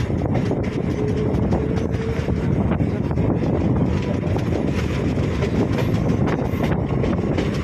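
A Sealdah–Hasnabad local train pulls out of Chapapukur station, a loud, steady rumble and roar of wheels and carriages with wind buffeting, continuous throughout.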